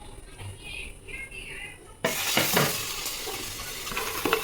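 Nuts and seeds roasting in a pan for laddu are stirred, starting halfway through: a quiet lead-in gives way to loud, close scraping, rattling and sizzling that continues to the end.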